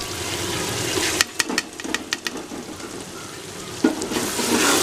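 Tomatoes and chillies frying in a masala in a pan, a steady sizzle broken by several sharp stirring clatters and scrapes close by.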